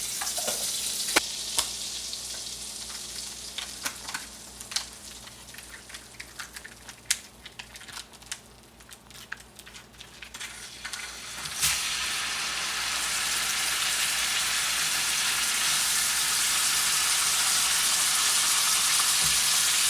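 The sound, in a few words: pork tenderloin frying in pan with butter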